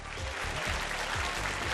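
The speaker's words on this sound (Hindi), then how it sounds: "भरपूर तालियां हेना जी के लिए, भरपूर तालियां भारती जी के लिए," Studio audience applause on a game show, a dense, steady wash of clapping heard alone at moderate level for a short burst.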